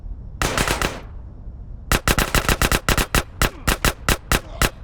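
Gunfire in Grand Theft Auto: San Andreas: a quick burst of about five shots, a short pause, then a long run of rapid, evenly spaced loud shots, close and sharp.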